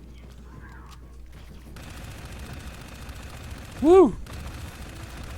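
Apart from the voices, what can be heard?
gunfire in a shooter video game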